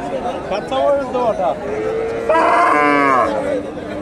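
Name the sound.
cow mooing at cattle market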